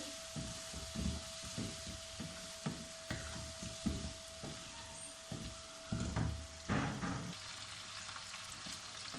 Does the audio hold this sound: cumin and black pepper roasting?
yes